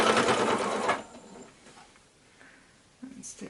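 A sewing machine stitching through a quilted Christmas tree skirt block runs in a fast, loud whirring burst for about a second, then stops, leaving quiet room sound with faint handling noises.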